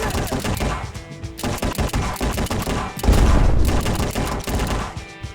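Rapid bursts of gunfire in a VR shooter video game, dense repeated shots in loud volleys with a brief pause before a heavier burst.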